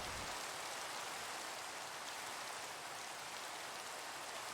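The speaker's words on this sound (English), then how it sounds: "All this rain." Rain falls in the Minecraft video game as a steady, even hiss of drops that continues unbroken and fairly quietly throughout, with no other sounds.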